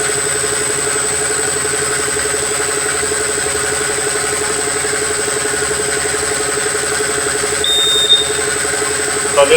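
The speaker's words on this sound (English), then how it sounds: "it will sound a warning alarm which notifies you that your pressings or your free run volume is about to be reached" A Marksman Smart Pump moving wine during pressing runs with a steady motor hum and high whine, then a short electronic warning beep sounds near the end as the set free-run volume nears.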